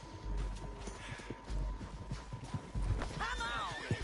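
Horse in the video game Red Dead Redemption 2: clip-clop hoofbeats run throughout, and a loud whinny rises near the end, with voices mixed in.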